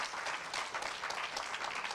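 A congregation claps together at a Shabbat service, with steady, dense applause that holds at an even, moderate level throughout and no voices over it.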